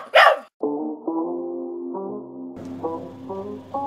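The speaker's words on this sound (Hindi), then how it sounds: "भौंकना बंद कर" A dog gives a sharp yelp, then a run of drawn-out, whiny barks and howls, loud and close.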